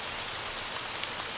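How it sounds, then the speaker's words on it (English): A short stretch of steady, even video-game rainfall hissing close by, with no other sounds or voices. "It started to rain."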